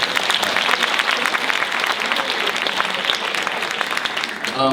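An audience at a high school class reunion clapping, a dense steady burst of applause filling the room, sustained throughout and fading slightly at the end.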